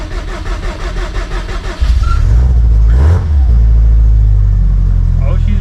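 A grey Subaru STI, low on gas, cranks with a rapid rhythmic starter whir for about two seconds, then catches and settles into a loud, steady idle close by.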